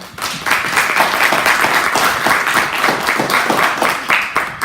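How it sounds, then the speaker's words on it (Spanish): A crowd breaks into steady applause, many hands clapping densely and continuously at moderate distance for several seconds. "Un aplauso, por favor, para él."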